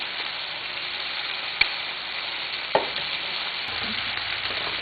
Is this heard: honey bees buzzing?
no